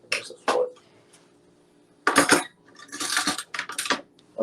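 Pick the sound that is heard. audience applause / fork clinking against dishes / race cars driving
fork clinking against dishes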